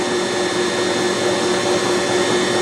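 Electric mixer whisking pound cake batter, a steady, loud, unbroken motor whir with no talk over it.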